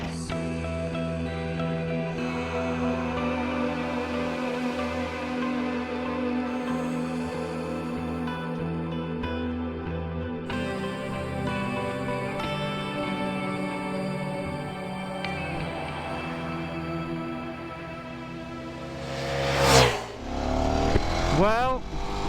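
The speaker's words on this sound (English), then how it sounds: "This is the Ducati Desmosedici RR" A Ducati Desmosedici RR motorcycle engine runs with a deep, steady drone and rising harmonics, then revs sharply near the end, with a voice talking over it.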